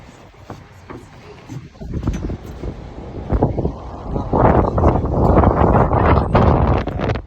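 Gusty wind buffets the microphone, roaring and rumbling louder toward the end, with occasional voices mixed in.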